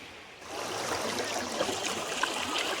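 Clear water streams through a forest in the Western Ghats mountains, giving a steady, broadband rushing and trickling wash that holds evenly close by with no voices.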